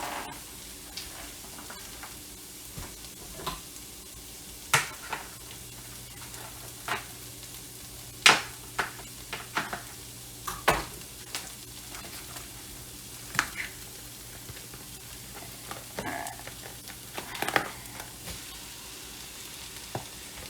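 Meat for pasta bolognese sizzles steadily in a pan while being stirred, with repeated scraping knocks and squelching clatters of the spoon recurring every second or two over the continuous frying hiss.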